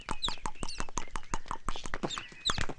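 Horse hooves clip-clop in a quick, steady rhythm, fairly close, with sharp bright hits and faint chicken-like clucks mixed in; no clear speech.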